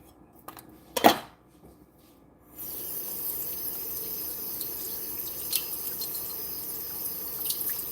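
Running tap water over chopped half-inch celery pieces in a kitchen sink, a steady close stream that starts after a brief clatter of dishes and continues alone.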